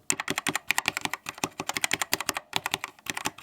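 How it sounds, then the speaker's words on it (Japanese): Keys clack on a Keychron K2 mechanical keyboard, a fast, close, crisp run of many light presses in quick, uneven rhythm with only brief gaps. "これカシャってこうスペースキーっぽい音がしますね。"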